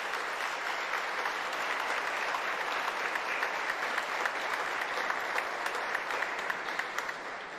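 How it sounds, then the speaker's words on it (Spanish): Warm audience applause at a Cuban ceremony marking the 153rd anniversary of the independence struggle, with dense, even clapping held steady from a moderate distance for several seconds. "Un fuerte aplauso para ellos."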